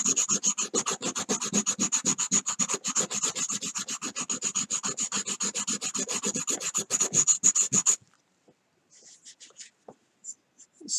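A carved wooden fishing lure is rubbed and rasped by hand in quick, regular back-and-forth strokes, close and crisp, for about eight seconds before a few scattered lighter scrapes.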